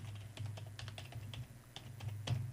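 A password typed on a computer keyboard: soft, close key taps in an irregular burst over a low background hum.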